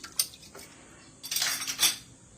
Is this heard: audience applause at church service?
no